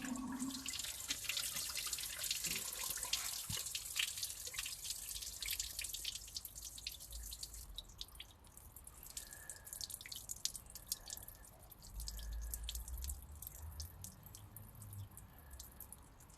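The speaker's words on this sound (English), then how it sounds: "we have a dramatic coolant leak coming from the timing case." Coolant drips from a leaking timing case on a Nissan March Super Turbo engine, giving faint, irregular splatters over a low background hiss. A brief low rumble rises near the end.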